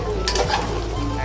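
Mutton and tomato being stirred in a pot, a close, loud sizzle with scraping spoon strokes over a short moment.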